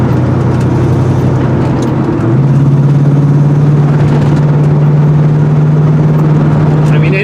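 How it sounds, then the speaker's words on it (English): A Foxbody Mustang engine hums loudly and steadily from inside the cabin. Partway through, the note steps up in pitch as the transmission kicks out of overdrive into regular drive, and the engine holds the higher drone afterward. "you could just hear the crazy difference in gearing when I kick it out of overdrive into the regular drive"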